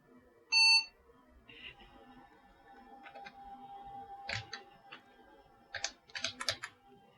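Keys clacking on an old IBM 5150 PC keyboard, scattered presses and short clusters of taps after a sharp beep, quiet and close, with a faint steady electronic whine behind.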